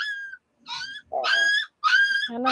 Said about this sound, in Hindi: यहाँ मैं आ गई हूँ तो कुत्ते भौंक रहे हैं हमारे यहाँ